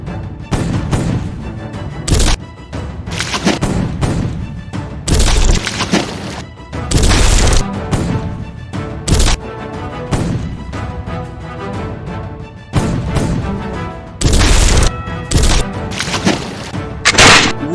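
Heavy booming cannon fire in a ship battle in a Lego pirate story, many loud impacts in quick irregular succession, with crashing and thudding throughout a chaotic battle.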